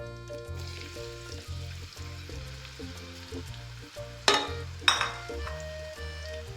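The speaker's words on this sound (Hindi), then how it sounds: "घी शामिल करेंगे। एक हम इसमें बड़ा प्याज शामिल करेंगे जिसको हमने काट लिया है" Chopped onion sizzles in ghee for a tinda dish, a faint hiss lying under louder background music, with two sharper bursts of crackling near the end.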